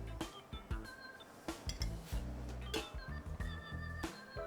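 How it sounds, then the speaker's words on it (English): An egg is whisked in a bowl for gnudi in a New Orleans restaurant kitchen, producing quick, uneven clinking taps of the whisk against the bowl that sound close and fairly quiet. "So we start off with egg, and I just kind of whisk it up"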